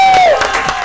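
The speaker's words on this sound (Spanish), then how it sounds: "si me pueden ayudar con el aplauso" An audience at a live pharmacy franchise event breaks into applause and cheering, a loud burst of clapping and crowd noise that follows a host's sustained tone.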